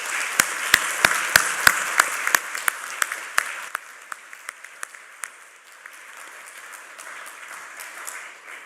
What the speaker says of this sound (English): I'd like to have another round of applause before we close for the night for the contestants